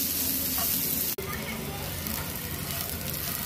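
Sliced bitter gourd frying in oil over a low flame, a steady close sizzle that runs throughout with a brief dropout near the start.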